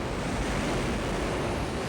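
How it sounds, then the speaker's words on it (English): Wind roars and waves churn continuously around a large waterspout on open sea, a dense, steady rush of noise with no voices. "Monster waterspout."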